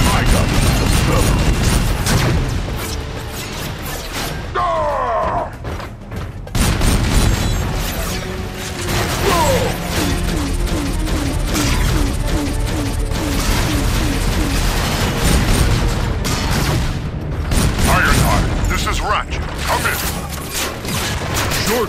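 Burn-mode gun firing in the Transformers: Dark of the Moon video game, loud continuous mechanical weapon noise and bursts layered over a dense game soundtrack with voices speaking, sustained across the whole stretch.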